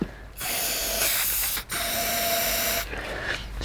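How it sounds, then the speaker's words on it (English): Switch cleaner sprayed from an aerosol can into a 2-stroke SIP generator, with two long, close, loud hissing bursts split by a short pause. "the only flammable stuff I've got left is switch cleaner,"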